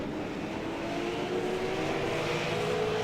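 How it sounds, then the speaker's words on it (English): A super late model race car engine on an oval track sputters and drones at a distance, faint and continuous with no talk. "Still a little bit of sputtering, but he's going to come to the white flag"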